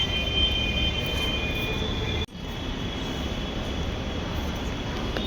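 A continuous low rumble of a metro train at a station, with faint high metallic whine and a brief dropout midway.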